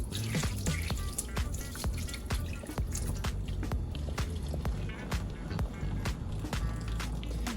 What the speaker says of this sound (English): We're going to discard all this liquid here in the sink and get our octopus patted dry.